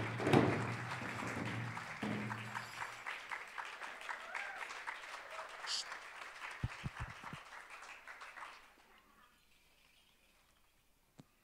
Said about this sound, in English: round of applause for Miss Soleil and also for Najoni